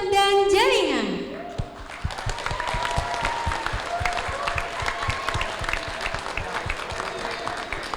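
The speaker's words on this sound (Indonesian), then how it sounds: "Berikan tepuk tangan yang meriah" At a school graduation farewell ceremony, a sliding electronic tone gives way to loud, sustained audience applause with sharp individual claps and crowd noise throughout.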